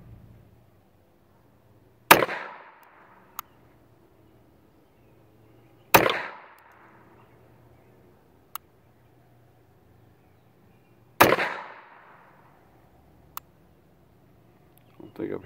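Three sharp pistol shots from a Beretta 21A .25 auto fired outdoors at a target 15 yards away, each a loud crack with a brief decaying echo, spaced several seconds apart, and a faint distant metallic tick after each shot.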